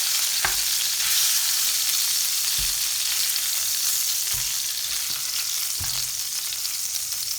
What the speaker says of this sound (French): Je débarrasse mes poulets dans une casserole